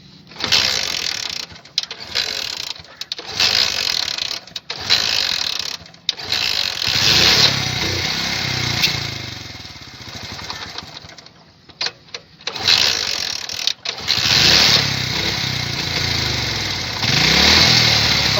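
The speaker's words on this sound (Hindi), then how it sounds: "फाइनली अपना मोटरसाइकिल स्टार्ट हो चुका है" A Honda CD 70 motorcycle converted to run on LPG gas sputters through several start attempts with short bursts and gaps, then settles into a steady idle close by.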